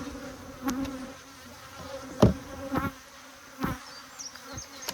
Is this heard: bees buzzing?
yes